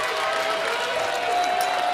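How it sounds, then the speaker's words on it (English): A crowd at a WPT poker final table gives a sustained ovation for a departing player, dense steady clapping filling the room with faint cheering. "Abbey Daniels gets a great ovation from the crowd, and well-deserved."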